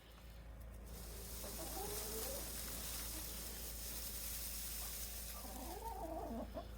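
Hens cluck softly inside a barn on a blustery winter day, a few faint calls rising over a constant low roar of wind and background noise.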